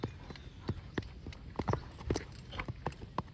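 A mare's hooves clip-clop sharply in a quick, running rhythm, close and fairly distinct over light background noise.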